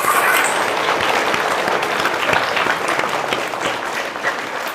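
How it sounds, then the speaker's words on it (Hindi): Children at a retreat clap and applaud in a dense, steady burst of loud hand claps that carries on without a break. "ये बच्चों के लिए ताली बजाओ।"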